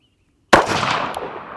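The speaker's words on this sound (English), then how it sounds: "I'm going to shoot at this upper right-hand target here" A single sharp rifle shot fired at a target, a sudden loud crack after half a second of silence, then a decaying echoing tail lasting about a second.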